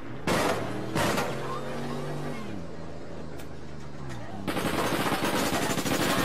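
Bursts of automatic gunfire in APB Reloaded: a couple of sharp shots, then a sustained rapid rattling volley near the end, over an engine-like hum and game ambience.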